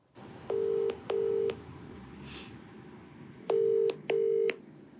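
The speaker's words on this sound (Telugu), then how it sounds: "సో నెంబర్ ఇచ్చిందండి, నేను కాల్ చేసాను." A telephone dials a number to place a call: four steady DTMF keypad tones in two pairs, loud and close, with a faint soft noise between them.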